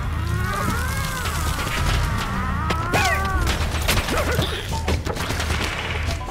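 Rapid bursts of gunfire in the video game Tearaway Unfolded, with repeated shots and booms over game music and sound effects, loud and steady throughout.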